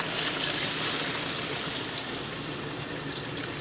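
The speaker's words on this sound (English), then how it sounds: "So I'm going to add in my water now." Water pours steadily into a pot of aloo curry, a continuous close rushing and trickling that holds evenly for several seconds with no talk over it.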